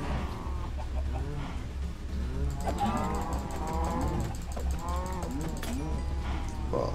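Minecraft cows moo repeatedly in blocky game audio, several overlapping low calls in a row, with clucking chickens mixed in and steady background sound beneath.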